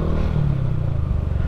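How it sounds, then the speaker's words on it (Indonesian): A motorcycle fitted with an Akrapovic exhaust runs steadily nearby, a deep throbbing engine note with a rough, burbling exhaust rhythm and no talk over it. "ini gue pakai knalpot Akrapovic ya guys ya"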